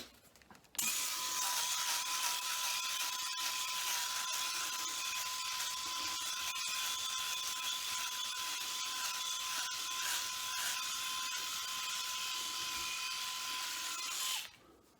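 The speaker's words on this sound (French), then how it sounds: "Je vais essayer avec mon autre rasoir" A Philips electric shaver buzzes steadily for about fourteen seconds during a shave, with a constant high whine and a gritty, bristly rasp, loud and close, starting and stopping abruptly.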